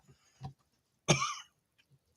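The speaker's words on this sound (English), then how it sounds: "Excuse me for coughing in everybody's ear" A single sharp cough, close and fairly loud, preceded by a faint throat noise and followed by quiet.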